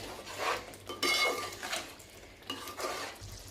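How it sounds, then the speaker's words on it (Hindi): A spoon scrapes and clinks against a metal pan while dried fenugreek leaves (kasuri methi) are stirred and roasted into a cashew curry masala, with steady close scraping strokes and soft rattles. "अब इसी में 1 चम्मच जितनी कसूरी मेथी डाल दीजिए। सूखी मेथी भी बोलते हैं इसको। अब इसको अच्छी तरह से भून लीजिए।"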